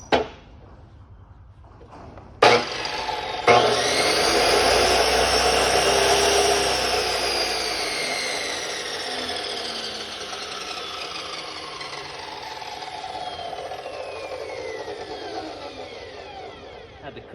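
DeWalt 14-inch chop saw spinning up and cutting through metal in a workshop, a sharp start followed by a loud sustained whine and grinding that gradually winds down, with no talk.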